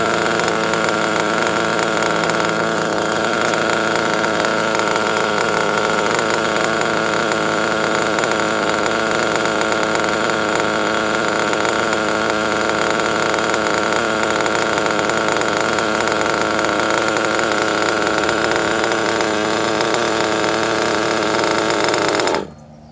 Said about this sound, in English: I think it's idling kind of high.